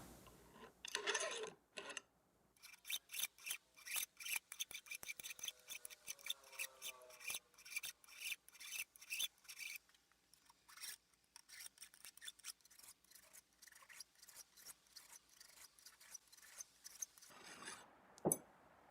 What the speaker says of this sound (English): coming in with a fret end dressing file and just rounding over all